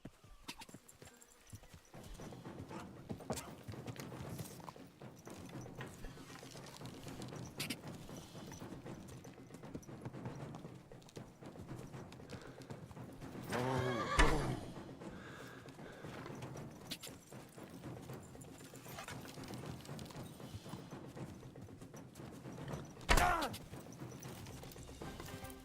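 Horse hooves clip-clop steadily at a walking pace in Kingdom Come: Deliverance 2, with a couple of louder bursts and a brief neigh standing out over quiet game ambience.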